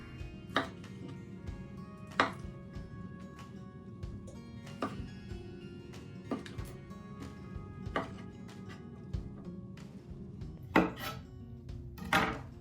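Knife chopping broccoli into small florets on a cutting board, with sharp, distinct chops spaced irregularly every one to three seconds, and a quick pair of cuts near the end, over a low steady room hum.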